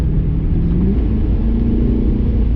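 A 1995 Chevrolet Corvette with a 4L60 four-speed automatic pulls hard from inside the cabin, a loud steady engine rumble whose pitch steps as the transmission downshifts, then climbs again.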